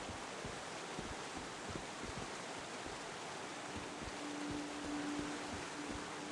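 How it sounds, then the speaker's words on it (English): A waterfall in the survival game Once Human roars as a steady wash of broadband rushing water, constant and fairly quiet, with faint soft ticks underneath and no talking. "there's a waterfall sound coming from the waterfall, and the waterfall is moving"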